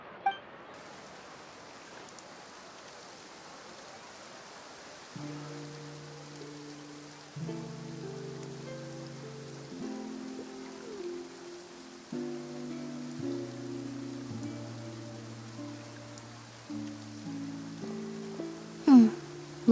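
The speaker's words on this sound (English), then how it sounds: "Looks like rain." Soft, steady rainfall patters in a Genshin Impact scene in the city of Fontaine, a faint even hiss accompanied by a gentle game music melody and a few light clinks, with no voices.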